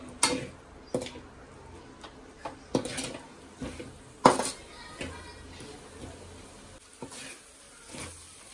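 A spatula scraping and tapping against a pan while vegetables for prawn fried rice are stirred, with soft irregular clicks and knocks, quiet and spaced apart, under faint background noise.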